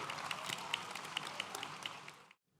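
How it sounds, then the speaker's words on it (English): An audience at an IIM Bangalore PGP graduation ceremony claps for a professor, a dense burst of applause from many hands that cuts off abruptly after about two seconds. "Big round of applause for Professor G."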